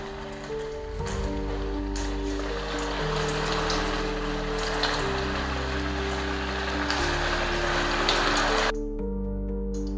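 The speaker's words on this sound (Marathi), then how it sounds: "आता मी मस्तपैकी तेलामध्ये टाकून घेतेय भजीप्रमाणे।" Tomato bhajji fry in hot oil, a steady loud crackling sizzle that runs without a break under a sustained musical drone, then cuts off near the end.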